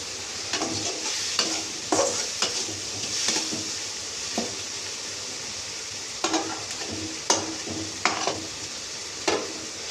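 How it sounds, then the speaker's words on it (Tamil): Tomatoes cook with a little salt in a pan, a soft steady sizzle broken by repeated sharp scrapes and taps of a spatula stirring against the pan at irregular intervals. "தக்காளி வெந்துக்கின்னு இருக்குது. லைட்டாக உப்பு போட்டாச்சு வேகிறதுக்காக."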